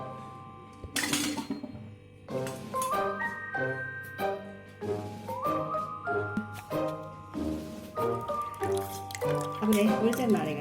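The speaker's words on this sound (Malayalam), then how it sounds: "ഇതിലേക്ക് നമുക്ക് ഒരു ചെറുനാരങ്ങയുടെ നീര് ഇതിലേക്ക് ഒഴിച്ചു കൊടുക്കാം." Fresh lemon juice is poured into strained watermelon juice for watermelon lemonade, giving soft dripping and trickling that sit under steady talking throughout.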